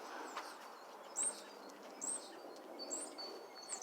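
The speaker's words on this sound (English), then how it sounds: "I hear a bird chirping in the distance" Outdoors, a bird chirps in the distance, with faint, brief calls repeating about once a second over a soft background hiss.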